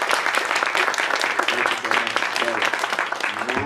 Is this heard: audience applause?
yes